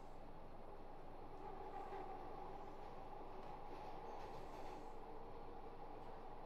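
Glasgow Subway trains pulling into a station in a train simulator game, giving a steady, loud rumble of wheels and motors with faint higher hiss, continuous throughout with no talk.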